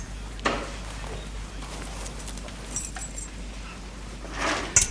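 Keys jangle in a few brief, faint metallic bursts over a quiet room hum, with a louder jingle near the end.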